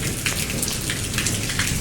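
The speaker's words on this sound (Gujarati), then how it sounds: "જો બહુ જ જોરદાર વરસાદ" Heavy rain pours during a storm in the village of Mota Kutvada, a dense, steady roar of drops hitting surfaces close by. It is loud and continuous with no voices.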